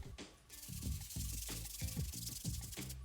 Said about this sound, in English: Remember to use your soft bristle brush on the insole